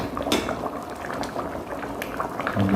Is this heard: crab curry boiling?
yes